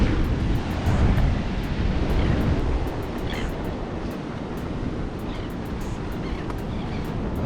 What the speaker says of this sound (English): The first time I see the ocean actually this calm since I've been here too.